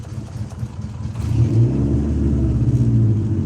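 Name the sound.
car engine revving, possible engine mount issue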